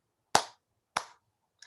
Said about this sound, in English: I'll clap 3 times.